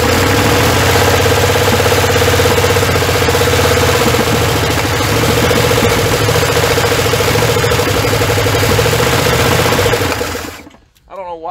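The 351 Windsor V8 in a 1981 Ford F100, revived after sitting for 24 years, runs loud and close with a steady rough idle, then cuts out abruptly near the end.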